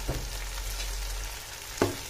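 Bay leaves frying in hot oil for a chicken biryani give a steady soft sizzle throughout, with a brief sharp clink near the end, close by and with no voices.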